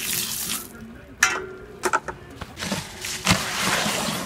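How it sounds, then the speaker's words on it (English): Water splashes and pours briefly into a wheelbarrow of concrete mix, with a few scraping knocks and drips in between. "little more water on top"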